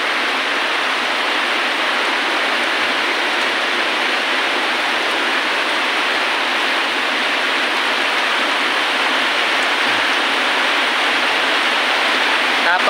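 Heavy rainfall pours down in Agusan del Sur, a dense, steady roar of rain on surfaces that stays loud and unbroken throughout, with no voices heard.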